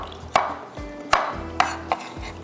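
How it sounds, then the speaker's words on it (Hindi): A knife chops garlic on a cutting board in several sharp, distinct thuds at an uneven, unhurried pace, close and clear over a faint background hum with no talking. "हम इसको लहसुन को भी चॉप कर लेते हैं"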